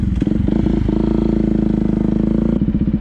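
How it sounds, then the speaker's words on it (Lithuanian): A Yamaha WR 180 motorcycle engine cranks on its electric starter, fires and settles into a loud, steady, close idle with a chattering pulse. "jungiam degimą, užsukam starteriu ir galime važiuoti"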